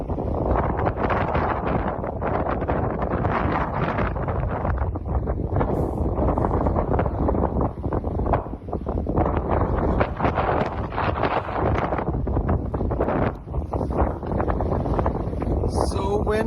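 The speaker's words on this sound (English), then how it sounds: "So windy." Strong wind buffets a tent and the microphone on a pilgrimage walk along St. Aiden's Way, a loud, continuous roaring rush with gusty surges throughout and no clear speech.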